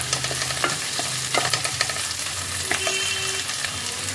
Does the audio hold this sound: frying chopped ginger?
yes